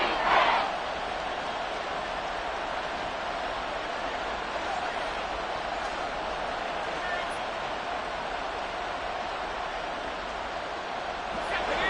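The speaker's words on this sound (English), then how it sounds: "This crowd trying to force a false start here." Loud, steady roar of a football stadium crowd at a Steelers at Saints game, sustained throughout to force a false start on a 3rd-and-inches play, with a commentator's voice faintly under it.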